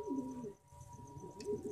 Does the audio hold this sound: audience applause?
no